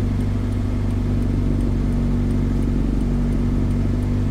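A K20A2-swapped Honda EG Civic idles at about 1500 rpm with a steady, loud, close-up mechanical hum and faint rhythmic ticking throughout.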